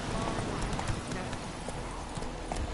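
Horse hooves clip-clop in a steady trotting rhythm in a video game, amid busy game ambience with some voices mixed in.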